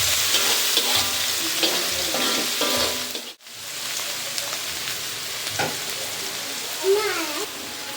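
Shrimp fry with onion and garlic in a pan, a steady broadband sizzle with repeated scraping stirs and a brief dropout partway through, close and fairly loud, with faint speech now and then.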